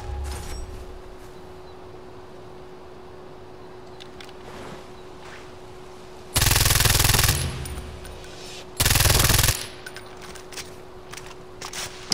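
Automatic gunfire in the video game Far Cry 4: two loud sustained bursts, each under a second, rattling over a steady electronic hum and quiet background game sound, with no voices.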